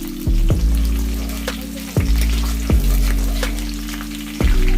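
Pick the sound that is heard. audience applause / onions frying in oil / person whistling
onions frying in oil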